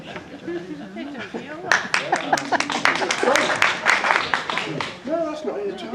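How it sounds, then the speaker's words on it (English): Audience clapping breaks out after a magic trick, a burst of claps starting around two seconds in over ongoing talk and light chuckles, then tapering as a voice continues. "Give her a round of applause."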